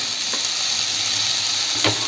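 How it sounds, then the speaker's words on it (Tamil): Paneer fries in a pan with capsicum and onion for chilli paneer, a loud, steady sizzle up close with a couple of faint stirring scrapes. "இப்போ வந்து நான் பன்னீர் சேர்த்துக்க போகிறேன்."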